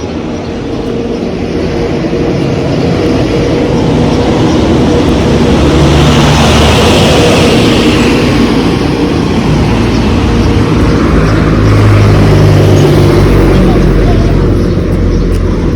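A truck passes close by on a dusty village road, a loud, steady rumble that swells and lingers over broad wind and road noise, with a person speaking over it.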